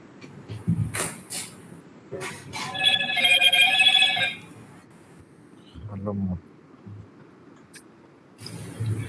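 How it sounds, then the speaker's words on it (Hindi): A telephone rings with an incoming call in a quiet room, a warbling electronic tone sounding for about two seconds amid brief talk and small handling noises. "उसका फोन आ गया, मंत्री का कॉल आ गया उसे"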